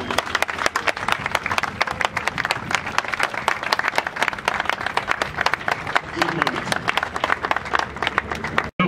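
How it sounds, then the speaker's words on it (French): A crowd applauds a departing artist, dense sustained clapping throughout, loud and continuous until it cuts off at the end. "pour applaudir l'artiste qui s'en va, pour dire bravo l'artiste"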